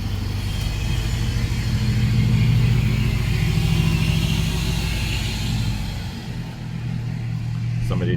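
A car passes close by a studio with a loud, steady engine rumble that swells and holds for several seconds, then dips briefly before the low drone returns.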